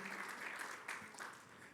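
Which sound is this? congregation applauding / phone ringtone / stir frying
congregation applauding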